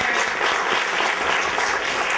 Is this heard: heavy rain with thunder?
no